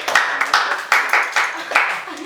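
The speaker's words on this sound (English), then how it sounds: "Please clap for him." Classmates in a mathematics lesson clap for a student who answered correctly, a handful of loud, close claps in a loose, uneven rhythm, with talking mixed in between them.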